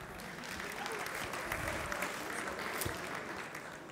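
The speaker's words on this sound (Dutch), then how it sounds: "Applaus." A theater audience at a provincial election debate claps steadily for about four seconds, a dense and even wash of applause with no voices standing out.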